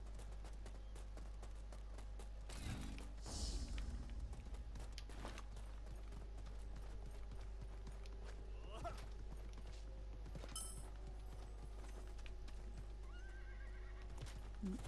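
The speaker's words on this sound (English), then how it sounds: "I hit a horse up here somewhere." A horse in the Realm Royale video game whinnies once and its hooves clip-clop as it gallops, quiet game sounds under faint background noise.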